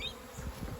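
Honey bees buzz steadily at an open hive with few bees inside, a soft continuous near drone with no voices.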